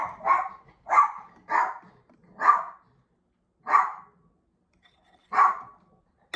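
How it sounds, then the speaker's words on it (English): A neighbor's dog barks outdoors near the woods, six separate barks spaced irregularly over a few seconds, moderately loud and fairly close, with quiet gaps between them and no talking. "The neighbor's dog is running back from the woods."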